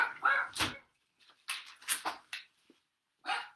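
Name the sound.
dog barking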